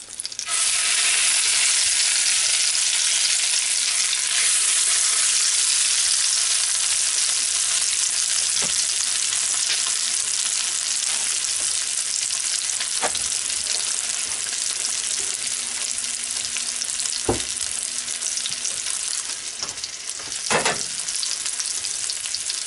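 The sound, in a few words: Monte Cristo sandwich frying in a pan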